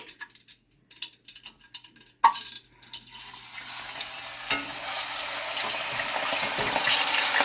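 Sliced potato chips dropped into hot cooking oil, starting with a few faint clinks, then a sudden loud sizzle that builds into a steady, bubbling fry rising in intensity.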